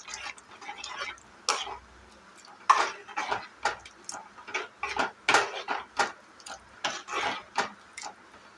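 Potato kurma sambar being stirred in a cooking pot, with a spoon clinking and scraping against the metal in irregular, close taps and rattles throughout.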